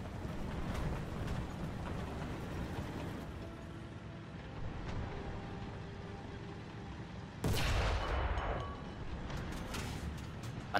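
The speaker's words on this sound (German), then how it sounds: "Granaten landen im Nirvana." Tank shells firing and exploding in War Thunder ground battles, a muffled low rumble of distant impacts with one sharp close blast partway through, no talk.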